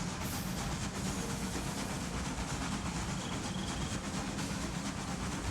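Fast trains run in the Railway Empire 2 game, set in Central Europe, giving a steady rumbling rail roar with a faint rhythmic clatter and soft hiss, constant and unbroken throughout.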